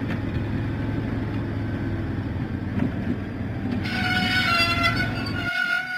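A diesel engine from a Thomas and Friends children's video game runs through the countryside, giving a steady rumbling chug. A bright whistle-like tone comes in near the end, then the low rumble cuts out.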